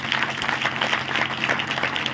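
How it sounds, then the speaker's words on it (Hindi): An indoor church congregation at a Bible class claps loudly and continuously, a dense, even patter of many hands with no voices over it. "ओके, ताली बजाएंगे जोर से।"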